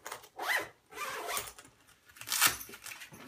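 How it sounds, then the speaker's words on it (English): A big main zipper on a Travelpro FlightCrew5 vertical rolling tote is pulled in three quick, close rasping strokes, the last the loudest, with no talking. "which has a nice big main zipper on it"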